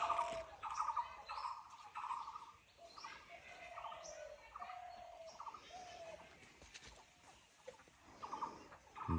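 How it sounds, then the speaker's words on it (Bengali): Spotted doves call repeatedly from a rural setting of farmland and ponds, soft cooing phrases recurring throughout at moderate distance amid faint outdoor background. "ঘুঘু পাখির ডাক,"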